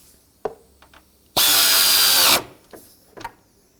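A power tool briefly spins to snug bolts into the plastic mounting of a 2003-2007 Nissan Murano cooling fan, one loud whirring burst of about a second between small clicks and handling noises.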